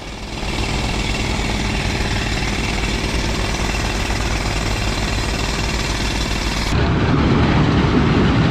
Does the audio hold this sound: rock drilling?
yes